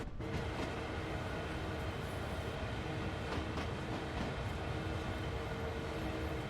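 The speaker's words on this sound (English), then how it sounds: "here is the last of the train that's passing us by" Steady rumble and rolling clatter of a CSX freight train passing close by in the Train Sim World 2 game, with loud even noise and a few clicks from the wheels.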